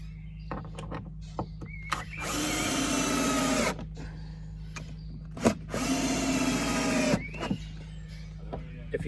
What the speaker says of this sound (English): So it's just a matter of pushing that in and screwing it down.